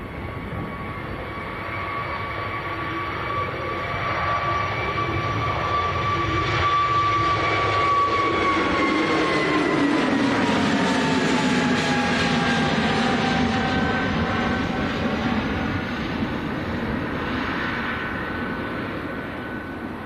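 A Qatar Airways jet taxis out at Manchester Airport, its engines a loud, steady whine with gliding tonal pitch shifts, swelling gradually and holding for the whole stretch.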